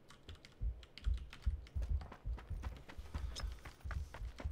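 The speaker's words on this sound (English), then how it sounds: "I'm gonna say I only hear one set of footsteps" Footsteps of a player character in the video game PUBG, a series of repeated low thudding steps at a steady walking pace, fairly close and moderately loud, with no talk over them.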